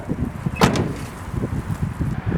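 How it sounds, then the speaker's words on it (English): The passenger door of a 1972 Chevrolet Chevelle Malibu swings with a single solid clunk, followed by faint creaks and low rumbling handling noises. "this door does make a little bit more noise than the driver's door"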